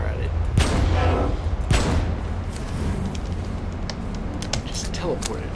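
Gunfire in the video game Abiotic Factor, several loud sharp shots early followed by lighter clicks and keyboard-like taps, with people talking over it.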